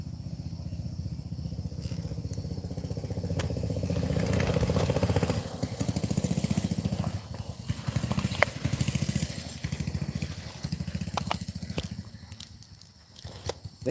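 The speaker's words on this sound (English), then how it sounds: "Here comes that bike again." A two-stroke motorbike passes by a cemetery at night, its engine buzzing and sputtering unevenly as if about to stall, swelling in the middle and then breaking into rough, choppy pulses before fading.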